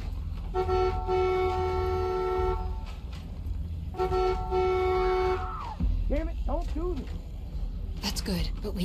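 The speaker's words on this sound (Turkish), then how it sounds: "kornaya basıyorum aga" A car horn pressed in The Walking Dead video game, two long sustained honks with a bending tone at the end, followed by speech over game sounds.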